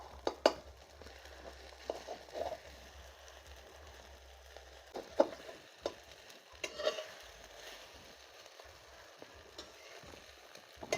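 Banana stem and egg frying in a pan in a home kitchen, giving a faint, steady sizzle broken by occasional soft clinks and scrapes of stirring.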